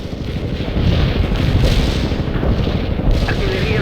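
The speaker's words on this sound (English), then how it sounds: "Commencing the barrage" Artillery barrage in the real-time strategy game World in Conflict, a continuous heavy rumble of booms and distant blasts rolling together, loud and sustained, with speech faintly mixed in.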